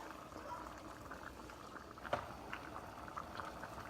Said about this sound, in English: Okay, so we've got this all simmering.